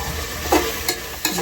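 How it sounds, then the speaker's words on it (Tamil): Tomatoes and mint sautéing in a pan give a soft, steady sizzle with a few brief stirring scrapes, close by and moderately loud, with no talking. "புதினாவும் இந்த தக்காளியும் நல்லா வதங்கிட்டோம்"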